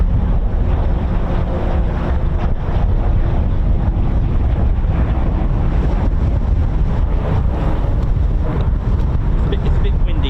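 Heavy, constant wind buffeting the microphone at an RAF Waddington airfield, a loud low rumble that never lets up for the whole stretch, with faint talk buried beneath it.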